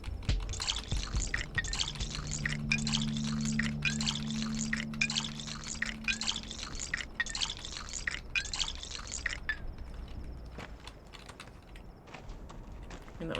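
Water pouring from a water barrel in the Pathologic 2 video game, a run of splashy bursts over several seconds with a low hum beneath, then quieter drips and clicks.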